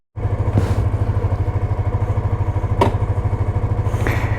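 A Suzuki GSX-R 125cc motorcycle engine starts with a thump and settles into a fast, even, close single-cylinder putter, loud and steady, with a few brief clicks and clatters above it and no speech.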